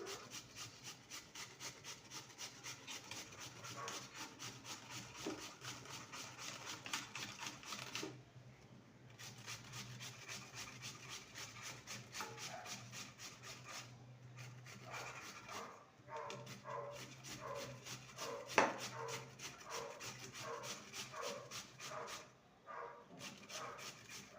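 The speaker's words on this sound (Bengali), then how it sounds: "একটা বড় সাইজের গ্রেটার নিয়েছি একটা আলু নিয়েছি কাঁচা আলু আলুটাকে গ্রেট করে নেব" A raw potato is rubbed against a large grater in fast, steady strokes, giving a continuous rasping scrape that is close but fairly quiet. The rhythm breaks off briefly a few times before resuming.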